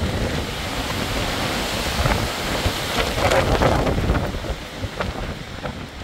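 Storm Herminia's wind gusts roar steadily and loudly across the microphone, a dense continuous rush that swells in stronger surges midway, with no voices.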